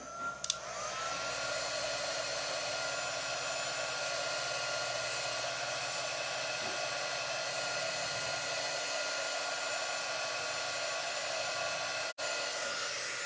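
Hair dryer blowing steadily on a craft transfer, close up: a constant loud whooshing whine with a faint motor hum that runs unbroken for about twelve seconds, then briefly cuts out near the end.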